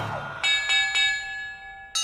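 A bell in Hogwarts Legacy is struck several times in quick succession, each clear metallic ding layering into a sustained ring, with one more strike at the very end.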